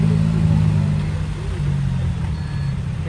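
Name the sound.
bulldozer engine at a dirt work site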